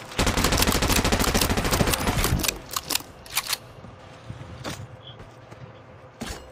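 A 12-gauge shotgun fires again and again in a shooting video game, a dense volley of loud cracks that thins to scattered single blasts, with no voices.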